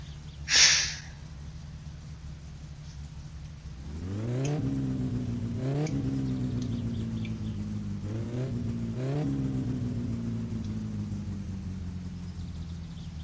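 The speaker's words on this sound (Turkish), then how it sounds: "Evet, araba çalışıyor şu anda." A car engine in the driving game My Summer Car, started with the choke pulled, cranks to life and settles into a steady, close mid-pitched idle with brief revs, after a short bright blip at the start.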